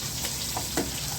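Chicken pieces and onion fry in a pan with a constant close sizzle, broken by a couple of soft scrapes and clatters as the pieces are flipped.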